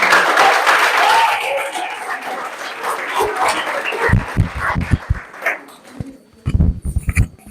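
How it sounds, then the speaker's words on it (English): A crowd at an anti-drug-abuse campaign rally in Bomadi, Delta, Nigeria claps and cheers, loud at first, then thinning into scattered bursts and thumps. "A round of applause."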